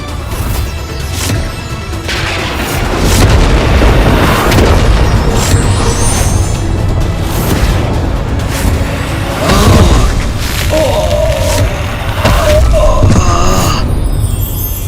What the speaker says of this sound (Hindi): ये कैसा विस्फोट था?